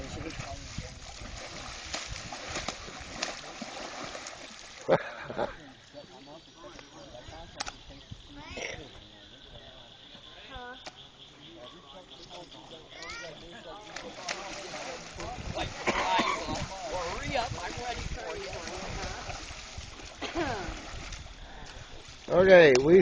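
Water splashing during a backyard water fight with pool noodles, irregular bursts of sloshing and splatter, some close and loud, mixed with people talking and laughing nearby.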